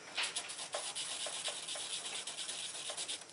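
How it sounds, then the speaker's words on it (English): A CZ P-07 pistol's firing pin retaining block is rubbed in circles on greased 1000 grit sandpaper, giving a close, continuous soft scraping with a gentle rhythmic swish and no talk. "I'm just going to set the firing pin retaining block flat down on it, and just in a circular motion with that grease on the sandpaper"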